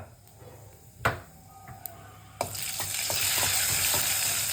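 Mustard seeds, with urad dal and cumin, tempering in hot oil for coconut chutney to go with idli. A couple of clanks come first, then a loud, steady sizzle and crackle begins and keeps going.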